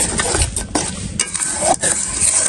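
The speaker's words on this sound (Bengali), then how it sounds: "এরপর হচ্ছে এটাকে ভালো করে একটু কষিয়ে নেব" Chili-powdered spice masala being stirred and sautéed in oil in a pan, with a steady crackling sizzle and repeated scraping strokes of a spatula against the metal, close and continuous.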